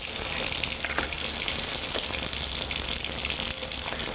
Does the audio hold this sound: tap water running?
yes